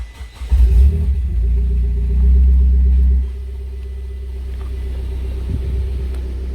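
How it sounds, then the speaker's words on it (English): A Mitsubishi Evo X engine cranks and fires with a loud rumbling burst, holds a raised revving idle for a couple of seconds, then settles to a steady low idle hum. "So I'm going to start the car up now."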